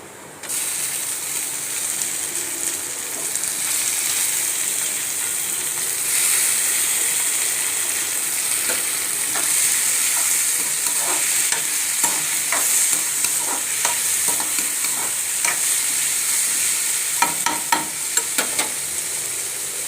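Onions sauté in a pan with a steady, dense sizzle that runs throughout, punctuated by sharp scraping stir strokes that cluster more thickly toward the end.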